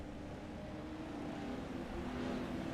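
Race cars at a Pro 4 dirt track championship run in a pack behind the pace car, a steady, fairly faint engine drone with no distinct passes.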